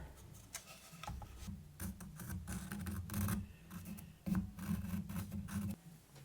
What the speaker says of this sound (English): I'm just tracing around the whole motif, doing it on both sides.